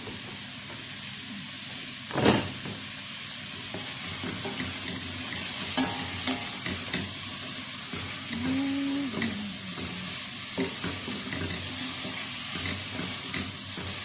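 Vegetables sizzling in a hot frying pan while cooking small macaroni with chicken, a steady loud hiss of frying with occasional scrapes and clacks of a spoon stirring, no voices.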